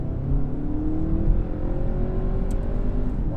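An Audi A3 S-line 2.0 TFSI Quattro accelerating from inside the cabin, a steady low engine drone with rising pitch as revs climb, continuous and fairly loud.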